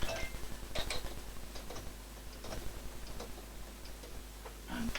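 A sewing machine running a lock-off stitch: a fast, even ticking patter of the needle mechanism, close and moderately quiet, steady for several seconds, no talking.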